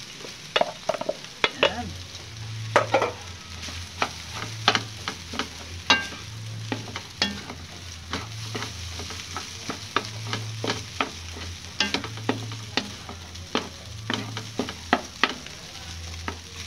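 Rice and cabbage being stir-fried in a pan, with a steady faint sizzle broken by repeated sharp scrapes and clacks of a spatula stirring, a brief spoken word near the start.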